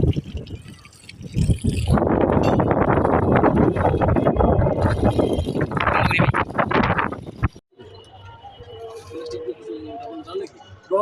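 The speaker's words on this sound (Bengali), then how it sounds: "অনেক বাতাস চলতেছে" Strong outdoor wind buffets the microphone in a loud, rough roar for several seconds beside a water tank being worked on, then suddenly drops away. Someone talks through it.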